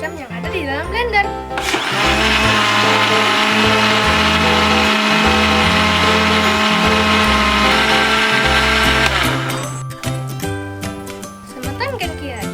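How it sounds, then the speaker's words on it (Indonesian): A blender grinds loloh cemcem ingredients with a loud, steady whirring roar that runs for about seven seconds. Music plays before and after it. "Ini karena blender mengubah energi listrik menjadi energi gerak yang bekerja untuk menghaluskan"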